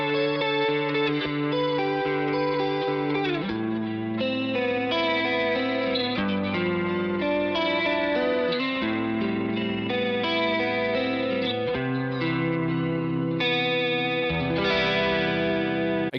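A guitar plays a slow sequence of sustained chords through a shimmering, swirling chorus effect, lush and continuous with no voices.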